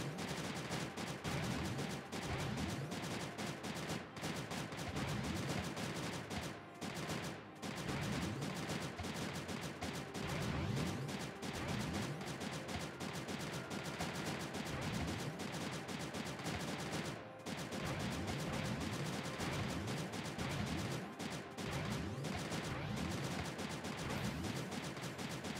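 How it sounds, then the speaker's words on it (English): Dense barrage of explosion and gunshot effects from the Creeper World 3 strategy game, a continuous loud crackle of rapid overlapping blasts with no pauses, briefly dipping only for moments. "Well, it's not pew pew laser, but it is explosion gunshots"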